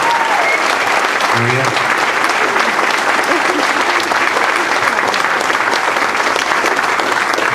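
A roomful of people claps for Jeremy, Ben and Deb at a gathering thanking supporters of Jeremy Cares. The dense, loud applause runs steadily throughout, with voices mixed into the crowd.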